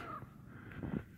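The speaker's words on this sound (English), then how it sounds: "I got a crow over there bugging me." Crow cawing outdoors in hunting country, a couple of loud harsh caws close together near the end of a short stretch of quiet open-air background.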